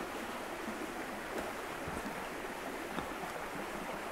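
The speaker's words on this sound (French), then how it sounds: "avec ce joli petit ruisseau qui coule." A small stream flowing through woodland undergrowth, its water foamy, gives a steady broadband rushing and babbling that stays even and continuous throughout, close and moderately loud with no voices.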